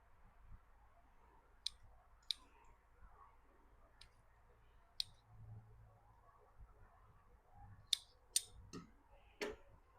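Scissors trim onion seedlings in a quiet garden, making sparse, sharp snips at irregular intervals, close and crisp against faint low background noise.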